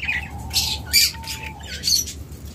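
A pair of pet birds squawk in harsh, bright bursts, three or four loud calls close by over a steady low hum.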